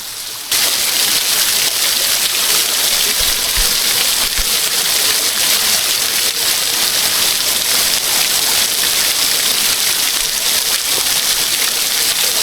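Water pours steadily from a squeezed camping filter bag outdoors, a continuous close splashing trickle lasting throughout with no talk.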